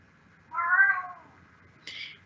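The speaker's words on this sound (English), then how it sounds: "I think that's my cat making a comment on the report" A cat meows once, close and fairly loud, with a drawn-out falling call, followed by a shorter, higher chirp-like meow after a pause, in an otherwise quiet indoor room.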